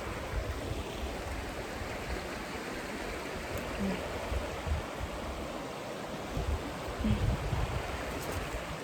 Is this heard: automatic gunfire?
no